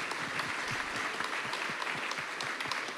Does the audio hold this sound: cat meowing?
no